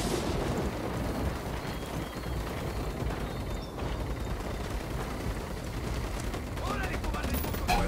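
Dense, sustained gunfire in the video game Ghost Recon Wildlands, rapid overlapping shots and automatic bursts forming a loud continuous barrage with talk mixed underneath.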